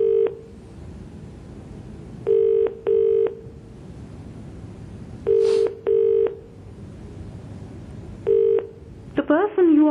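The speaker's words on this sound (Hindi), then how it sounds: "ये टेलीफोन गोपाल राय जी को लगाया गया है," Telephone keypad tones beep in short bursts, some single and some in quick pairs, spaced out over steady background hiss, ending with a brief warbling tone.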